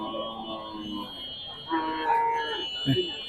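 Cattle lowing at a busy livestock market in Shahapur, Dumuria, Khulna, with a couple of drawn-out moos over steady crowd murmur and a short louder call near the end.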